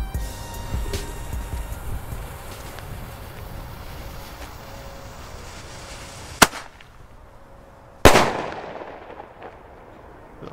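Two Weco Flash Bang firecrackers (2016) explode outdoors, one sharp crack followed by a second, louder bang that rings out and decays, over a background of wind and distant traffic.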